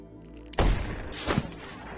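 Sniper rifle gunfire during shooting practice in an action film: two sharp, loud shots about three-quarters of a second apart, each with a booming tail, over a faint tonal background.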